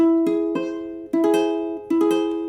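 An augmented chord for ear training, played as a few struck notes, each ringing and overlapping before the next sounds, in three repeated groups with no talking.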